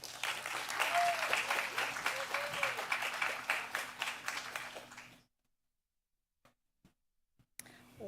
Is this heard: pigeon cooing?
no